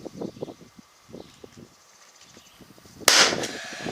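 A 16 gauge finish nailer loaded with 1.25-inch nails fires once during kitchen banquette trim work, a single sharp pneumatic crack near the end after some quiet handling and shuffling.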